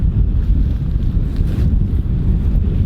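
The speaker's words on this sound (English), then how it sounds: "My apologies on the wind if it is a little windy." Wind buffets a microphone outdoors, producing a continuous low, rumbling roar with uneven gusty swells and no voices.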